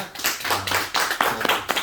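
Congregation in a Korean church clapping during a Sunday worship service, a short burst of uneven, irregular claps with clear individual hand strikes.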